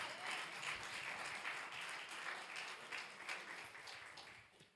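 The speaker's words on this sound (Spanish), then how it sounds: "Dele un aplauso a su Señor" Church congregation applauding during a sermon by a minister, a dense wash of clapping that stays even for several seconds and fades slightly at the end, very quiet and distant.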